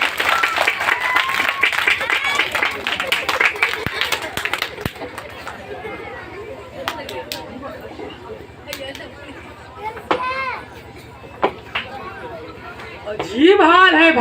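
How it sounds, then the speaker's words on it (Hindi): Loud applause and clapping from a crowd at a Hindi stage play, dense at first and then thinning into scattered claps and chatter, with a fresh burst near the end. "जोरदार ताली होनी चाहिए"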